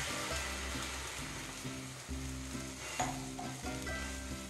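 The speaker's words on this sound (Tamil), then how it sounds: "இப்போ அதே கடாயில் நம்ம எடுத்து வச்ச அந்த 200 ml பால் சேர்த்துடுறோம்." Hot kadai used to fry bread slices for double ka meetha bread halwa gives a steady sizzle and bubbling as 200 ml of milk goes in, with a low hum and faint scraping throughout.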